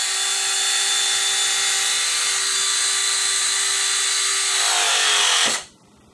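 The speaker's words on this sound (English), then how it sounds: "these 4 pins just collapse on the lug to secure it" A Ridgid battery crimping tool squeezes its four pins onto a cable lug, its motor giving a steady, loud whine for about five seconds before cutting off abruptly into near silence.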